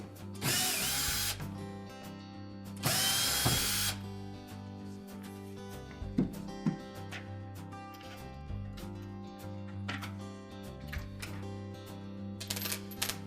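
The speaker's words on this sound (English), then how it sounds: "Next we'll remove the 4 screws that secure that accumulator to the pump body." A power screwdriver backing out Torx screws from the accumulator on a Whirlpool dishwasher pump, with two loud whirring bursts followed by quieter clicks, taps and small metallic handling noises.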